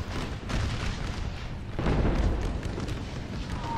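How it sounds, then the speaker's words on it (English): Rumbling artillery booms in Napoleon Total War with the ACW HardCore mod, a dense battle roar with heavier blasts swelling near the middle, continuous and loud with no talking. "We have artillery so close."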